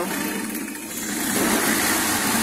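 A 2004 Ford Escape engine idling roughly with an intermittent stalling fault and dropping RPM, heard as a close, steady broadband engine drone that dips slightly and then swells again.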